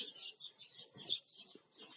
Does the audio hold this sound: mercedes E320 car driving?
no